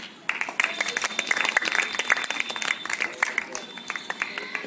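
A school audience at a quiz programme breaks into lively applause after a correct answer, the clapping starting abruptly and staying dense and fairly close for several seconds, with voices faintly mixed in.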